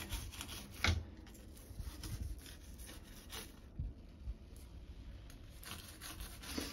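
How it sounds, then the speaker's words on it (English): A toothbrush scrubs the teeth of bicycle chain rings during a wash in a shower, producing soft, close, continuous bristly rubbing with occasional knocks and a steady hiss of running water behind. "Let's go ahead and scrub some of the teeth of these chain rings too."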